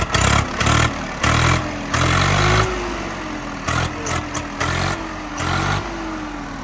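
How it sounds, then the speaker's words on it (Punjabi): A diesel engine of a Swaraj 855 tractor chugs and idles nearby, rising into repeated revs and falling back to a steady rumble, with no talking. "ਦੁਬਾਰਾ ਸਟਾਰਟਿੰਗ ਚੈੱਕ ਕਰੋ ਟਰੈਕਟਰ"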